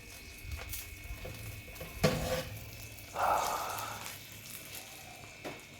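Mince sizzles as it browns in a frying pan, with a soft steady hiss broken by a sharp scrape and a louder burst of frying as the meat is stirred.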